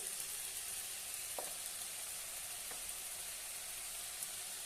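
Potato chutney with red chili powder, salt and garam masala sautés in a pan, a soft continuous hiss of frying with a couple of faint clicks from stirring.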